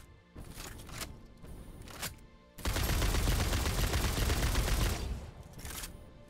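Gunfire in the video game Satisfactory: a few short bursts early on, then a dense, loud sustained volley of rapid shots lasting several seconds before tapering off.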